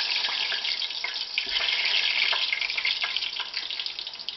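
Food frying in hot grease on a stovetop while an omelet is being made, giving a steady, loud crackling sizzle with bright hiss throughout and scattered pops, no talking.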